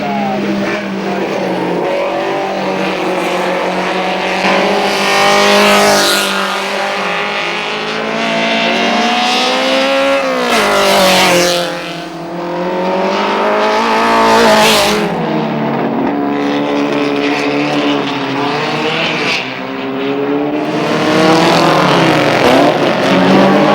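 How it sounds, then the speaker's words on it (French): Lotus Elite and Alfa Romeo Giulia race cars sliding and braking at a historic Grand Prix, engines droning and revving loudly and continuously with rising and falling pitch, tires squealing, a commentator's voice faintly underneath. "jamais les Alfa Giulia ne rejoindront les deux Lotus, partis pour un véritable festival de glissade et de freinage"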